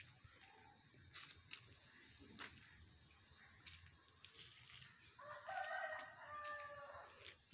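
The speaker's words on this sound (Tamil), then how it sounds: "இங்கே சேவல் கோழி எல்லாம் மேய்ஞ்சிக்கிட்டு இருக்குது." Roosters and hens foraging outdoors after rain, heard faintly as scattered clucks and a crow-like call near the end, set against quiet rustling and light ambient noise.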